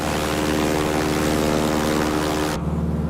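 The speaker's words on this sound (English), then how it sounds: "all of a sudden a bunch of airplanes from World War II come ripping by" World War II warbird propeller planes in Microsoft Flight Simulator roar past, a loud droning engine buzz that holds steady then drops abruptly as they pass.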